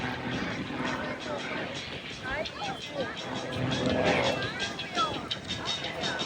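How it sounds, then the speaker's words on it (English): An Extra 300 aerobatic airplane flies at an airshow, its engine drone rising and falling at a distance beneath steady crowd noise and an announcer's voice. "Kevin Coleman, that beautiful extra 300."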